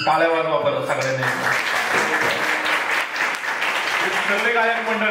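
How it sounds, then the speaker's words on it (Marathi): An audience at a Marathi devotional kirtan claps steadily and loudly for several seconds while voices sing and speak over the applause. "टाळ्या वाजवा बरं सगळ्यांनी"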